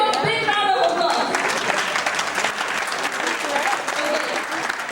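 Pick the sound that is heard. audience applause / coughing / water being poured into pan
audience applause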